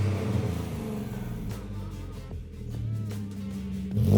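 A Nissan Xterra fitted with a Z1 Performance exhaust drones at steady revs on a dyno, its low engine rumble and exhaust note holding close and loud before swelling again at the end.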